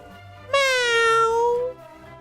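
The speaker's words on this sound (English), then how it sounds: "And make sure to talk to the kitty." A cat in the Dragon Quest video game gives a single drawn-out meow, loud and clear, lasting just over a second against a quiet game background.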